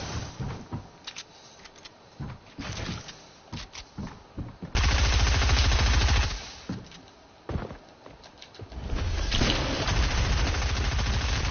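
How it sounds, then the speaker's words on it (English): Rapid automatic gunfire in the video game Fortnite, sharp bursts at first, then long sustained loud volleys that fill the scene, with a brief lull between heavy streams of shots. "I'm gonna literally, like, put my whole ammo into him"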